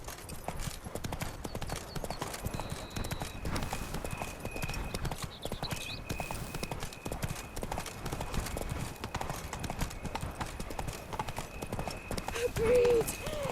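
Roach, Geralt's horse in The Witcher 3, gallops in a steady, rapid clip-clop of hooves that runs throughout, close and continuous, with a brief whinny near the end and voices speaking over it.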